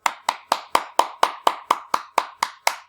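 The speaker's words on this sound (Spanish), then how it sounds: "aplaudir, vamos" Twelve sharp hand claps at an even, brisk pace, each crisp and close, with short decays and nothing else in between.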